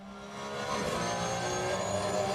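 A Porsche Cup race car engine in a racing video game at Misano drones steadily, its pitch climbing slightly as it revs, loud and continuous with no voices.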